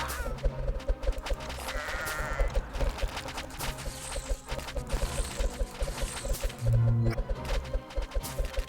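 Sheep bleats from the Kingdom Rush tower-defense game, a few short bleating calls mixed into busy game music and battle effects, moderately loud throughout.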